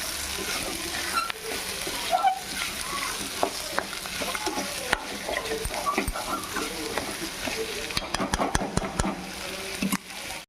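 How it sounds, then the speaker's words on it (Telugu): A spoon stirs tomato and boiled potato pieces in a hot pan, scraping and sizzling softly in an uneven rhythm, with a few sharper clinks near the end. "ఒకసారి తిప్పుకుందాం."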